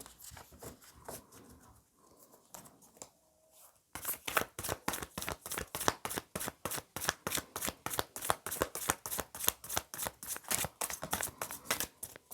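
Tarot cards being shuffled, first softly and quietly, then in a long run of rapid, crisp riffling flaps in a quick regular rhythm, close and clear with no talking.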